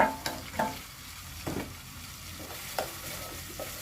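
Ginger garlic paste sizzles steadily in a hot pan while a spoon stirs it, scraping the metal in several sharp strokes over the constant frying hiss.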